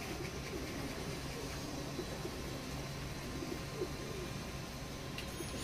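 A Teddy pigeon coos faintly under a steady low background hum, soft and somewhat distant, with no clear voices.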